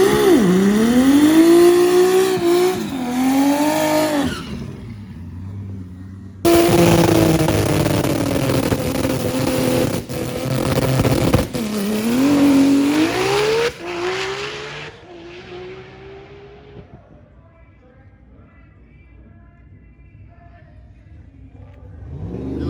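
Race cars at a derby meet roar past one after another, engines rising and falling in pitch as they pass, loud and close with brief gaps before fading into distant engine noise at the end.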